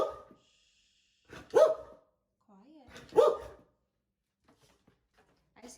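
A dog barks twice, a few short, fairly loud woofs spaced apart, with a brief whine between them on a cold evening indoors by a fire, and otherwise quiet surroundings.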